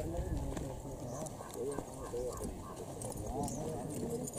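A four-month-old foal walking behind its mare in rural Kathiawar, with soft, irregular hoof clops on the ground under ongoing conversation between people nearby.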